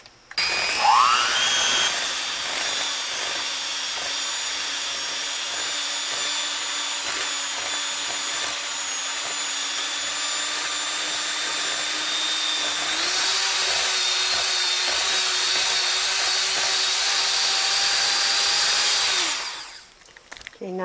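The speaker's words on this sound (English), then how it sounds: "I'm going to beat the sugar and the butter together until it's creamy" Electric mixer beating sugar and butter together for a 7-Up cake, a steady whirring motor hum running close and continuous for about nineteen seconds, shifting slightly higher in pitch partway through before cutting off.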